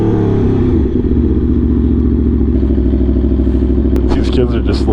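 An Aprilia motorcycle engine thrums loud and close while riding a rough road, a steady rumbling pulse with rattling clatter, and a voice speaks briefly near the end.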